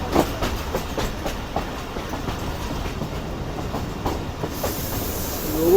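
A Subak Raftar railcar rolls along the rails with a steady rumble and rhythmic clickety-clack of wheels over joints, heard from on board at a moderate level throughout.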